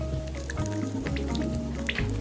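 Resin mixture from a craft kit bubbles in room-temperature water, giving soft wet squishes and scattered drips, fairly quiet and close with no talking.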